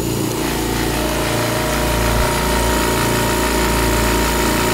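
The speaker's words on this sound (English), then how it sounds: "now that the compressor is on" An electric air compressor runs steadily at midnight indoors, a loud continuous motor hum with a pulsing low drone and no pauses, nearby and alone with no talking.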